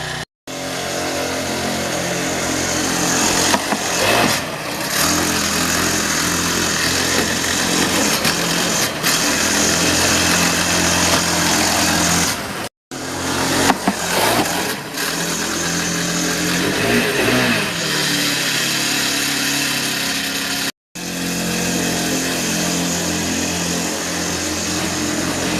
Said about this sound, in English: now's me jumping the go-kart off the ramp